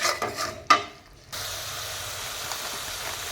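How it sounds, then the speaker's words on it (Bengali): Spice paste with cumin powder and green chillies fries and is stirred in a hot pan: a few scraping strokes, then a steady loud sizzling hiss that runs on without a break, with no talking. "তারপর মশলাটা কষিয়ে নেব"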